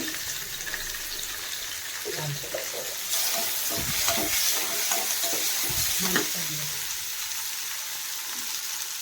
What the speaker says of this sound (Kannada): ಇದೆಲ್ಲ ಹಾಕಿ ಫ್ರೈ ಮಾಡ್ಕೋತಾ ಇದ್ದೀನಿ ನಾನು ಒಂದು ಸ್ವಲ್ಪ ಸ್ವಲ್ಪ ಮೆಂತೆ ಹಾಕ್ಕೋತಾ ಇದ್ದೀನಿ